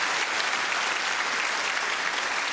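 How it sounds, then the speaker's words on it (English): Audience applause at a live comedy show, a dense, steady roar of many hands clapping at full strength throughout, with no speech over it. "Round of applause for the Star Wars fan."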